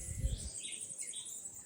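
Small birds chirp and twitter faintly through a Jamaican bird sanctuary, with hummingbirds among them, the calls light and high over a low rumble of wind or handling at the start, and no one speaking.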